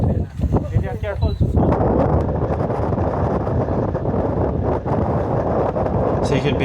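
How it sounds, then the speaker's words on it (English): Strong wind gusts roar across an outdoor flash photography shoot, a loud, constant rumble buffeting the microphone, with a person briefly talking near the start underneath. "you can basically hear how windy it is already"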